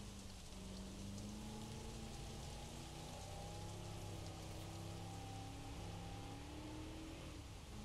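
Rain in Jurassic World Evolution hisses as a steady, even wash, with a low droning hum of motor-like tones running beneath it throughout.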